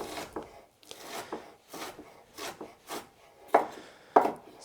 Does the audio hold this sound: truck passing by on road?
no